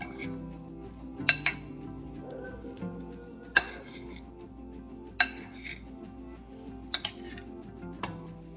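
A spoon clinks against a bowl while a tres leches cake topping is mixed, with scattered sharp metallic taps over a faint background hum.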